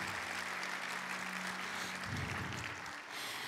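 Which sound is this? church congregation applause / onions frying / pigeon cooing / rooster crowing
church congregation applause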